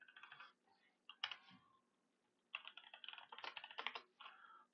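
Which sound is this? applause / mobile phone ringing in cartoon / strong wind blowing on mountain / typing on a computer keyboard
typing on a computer keyboard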